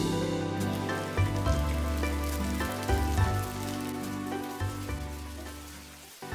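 Diced carrots and yard-long beans frying with cold cooked rice in a pan make a continuous rain-like crackle and patter, with a low steady hum underneath; no one speaks.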